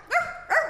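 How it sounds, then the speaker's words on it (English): Two short, fairly loud dog barks, clean and separate, about half a second apart with no talk over them, heard in a comedic story performed by a children's percussion ensemble. "all she could do was bark"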